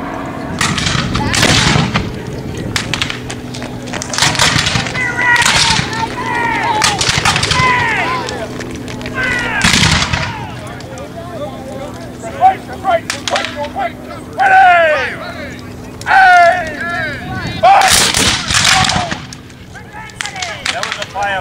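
Civil War reenactors firing rifles by company at a Fort Adams living history weekend in Newport, Rhode Island, a series of loud sharp volley cracks and booms in uneven bursts, with crowd chatter and voices between the shots.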